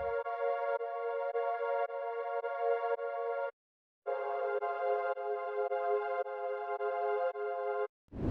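A guitar and soft pad sample chopped in Fruity Slicer with long attack and decay, playing two sustained phrases of bright layered tones separated by a short silence.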